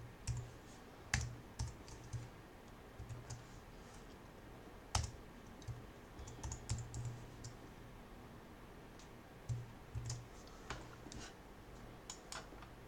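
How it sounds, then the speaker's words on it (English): Fingers type on a computer keyboard in quiet, sparse bursts of crisp clicks with pauses between, close by in a calm room. "I'm just going to start typing here"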